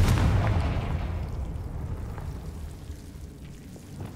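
Confringo fire blast spell in Hogwarts Legacy: a heavy booming blast at the start that decays into a long, fading rumble, heard alone.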